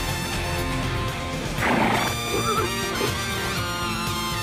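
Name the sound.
horse neighing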